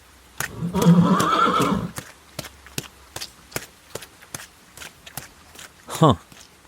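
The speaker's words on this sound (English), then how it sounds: "Arriving at the field, Ulysses rides out with his staff." Horses ridden out to a muddy field: a loud whinny and snorting early on, then a steady series of sharp hoof clops and footfalls, ending with another brief whinny.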